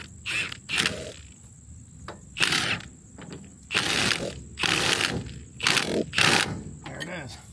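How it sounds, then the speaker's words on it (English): An impact gun works on a bolt in repeated short bursts of rattling hammering, close and loud, separated by pauses, with a steady high whine in the background. "And we take our handy dandy impact gun"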